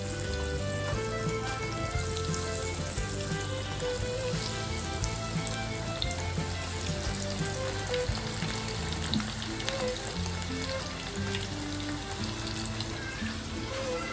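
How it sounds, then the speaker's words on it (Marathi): Chicken leg pieces deep-frying in plenty of hot oil for a chicken fry, a loud, steady, dense sizzle and crackle running unbroken throughout with no voices. "पहिले लेग पीसच तळून घेऊया जास्त तेलावरती, मग छोटे छोटे पीस आपल्याला तळता येतील."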